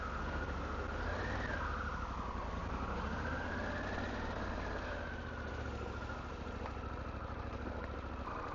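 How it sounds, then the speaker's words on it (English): A Harley Davidson Pan America 1250 motorcycle idles, a steady low engine rumble with a slight rise and dip in pitch, heard up close and alone for several seconds. "the exhaust note and the engine sound"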